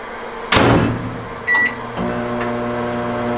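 A microwave oven heating a food tear pouch in a tiny house kitchen. A door bangs shut, a short beep sounds, then a steady motor hum and whir carry on alone.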